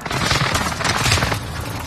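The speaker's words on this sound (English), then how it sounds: "Enemy precision airstrike." Enemy precision airstrike in a shooter video game, a dense rumbling barrage of booms and cracking blasts rolling over each other for nearly two seconds, loud and close.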